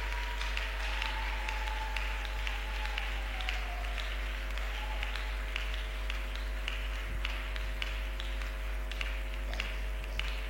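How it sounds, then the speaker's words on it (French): An audience welcomes Dr. Sunday Adelaja with a scattered, moderately loud round of clapping under a constant low hum, the claps continuing unevenly throughout. "Sous vos applaudissements,"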